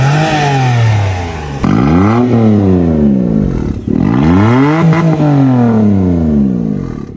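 A modified Toyota Vitz engine revs loudly and up close, rising and falling through several throttle blips in a row, with no voices over it.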